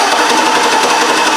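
Chevy Tahoe engine cranking without starting, the starter whirring in a fast, even, loud buzz throughout.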